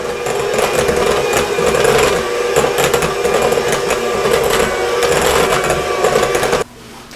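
Electric mixer whipping banana cream pie filling, a loud continuous whirring drone close by that runs steadily and then cuts off abruptly near the end.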